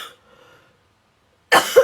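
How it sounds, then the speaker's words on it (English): A single harsh, loud cough bursts out at the end after near silence, with a second peak in the same fit, in a quiet room during a card-making demonstration with watercoloured cardstock. "This is my cough, which I've had from last year."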